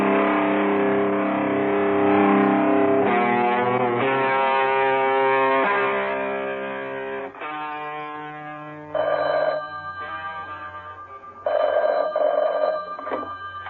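A telephone rings in loud, repeated electronic bursts, with pauses between some of the rings and no voices over it.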